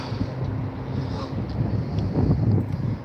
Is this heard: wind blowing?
yes